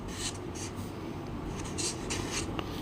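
A pen scratches across paper while numbers are written out by hand, giving soft, continuous rubbing strokes in short bursts, close and quiet.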